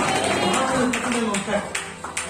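A church congregation claps during a sermon, with a few quick bursts of clapping that rise and fall under a loud voice.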